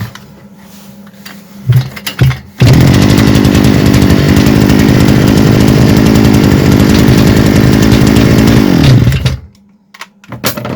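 A SADKO GTR-2200 petrol brush cutter engine sputters briefly, then roars into a loud, steady two-stroke buzz held for about seven seconds before dropping away, recorded up close with no talking over it.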